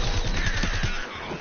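Rapid gunfire hits the player in Plants vs Zombies, a short close burst of repeated shots in quick succession that fades out after about a second.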